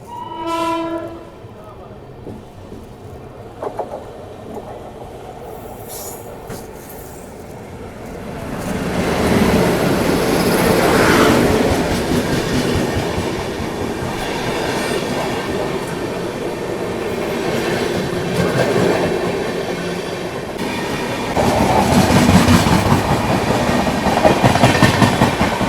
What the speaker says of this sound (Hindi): बढ़िया पैरेलल देखने को मिल रहा है यहाँ पर श्रमजीवी एक्सप्रेस के साथ